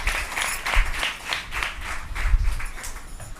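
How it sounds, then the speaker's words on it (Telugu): A church congregation claps in praise during a Telugu worship service, with a steady burst of hand-clapping from many people that carries through the whole moment without speech. "చప్పట్లు కొట్టి దేవుని స్తుతిద్దాం"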